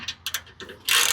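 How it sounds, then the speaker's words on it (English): Quick ratchet clicks loosening bolts on the skid shield of a rusty Lexus GX460 during an oil change, a few close rapid clicking bursts ending in a longer buzzing ratchet spin. "if I remove this whole shield, it's 2 bolts anyway. So I might as well. Remove 2 bolts."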